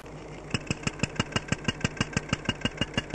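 An engine with one cylinder not firing, heard close through a contact listening probe: a steady run of sharp, evenly spaced knocks about every fifth of a second over a low hum, with no talk.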